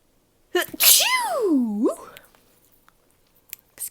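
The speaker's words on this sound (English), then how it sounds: "oh, I'm going to sneeze." One sharp, close human sneeze bursts out in a quiet room, rising fast and trailing off, followed by near silence and a faint rustle.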